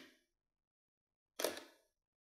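A DSLR camera shutter fires for a 1.5-second exposure at f22 while shooting flowers close-up: a faint opening click, a silent pause, then a louder closing clack.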